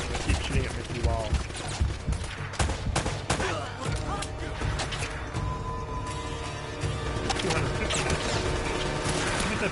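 Gunfire coming through walls in a shooter game: bursts of sharp, loud shots and mechanical clatter scattered through a dense, busy mix, with a person talking over much of it.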